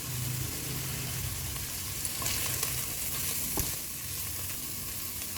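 Chicken pieces and onion sautéing in a pan for chicken cheese rolls, a steady close sizzle and crackle with faint stirring scrapes, no talking.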